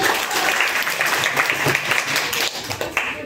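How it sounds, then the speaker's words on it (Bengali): Dense, steady applause from an audience clapping loudly for a girl who has just finished at the front, sustained across the whole stretch with no one talking over it. "আপুর জন্য জোরে কি করতালি হয়েছে?"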